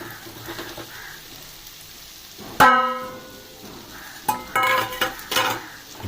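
Fried potatoes are stirred into spices in a pan over a low flame for aloo palak, heard as a quiet sizzle with a ringing metallic clank of a spoon on the pan, then a cluster of scraping, clattering stirs.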